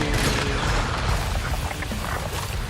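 Gunfire in the video game Once Human roars in a dense, continuous barrage of loud booming shots, filling the whole stretch with little let-up.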